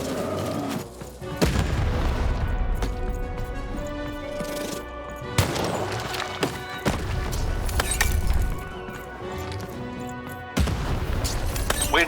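Cannon blasts in the video game Lost in Random, several heavy booms and crashes landing over busy, continuous game music, loud and close.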